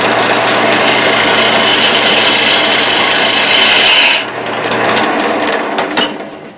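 A hand tool cuts into wood on a lathe, resting on a tool rest raised about a quarter inch: a steady, loud rasping scrape for about four seconds, then quieter scraping with a few sharp ticks.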